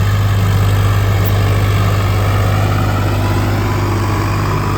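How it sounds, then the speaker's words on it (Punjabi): Swaraj 855 4x4 tractor working a rain-soaked field, its diesel engine holding a steady, loud, close low drone throughout with no voices. "ਦੇਖ ਲੋ ਬਾਈ ਟਰੈਕਟਰ ਨੂੰ"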